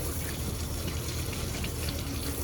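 Freshly harvested beetroots are washed under running water, a continuous close splashing and gushing stream without any speech.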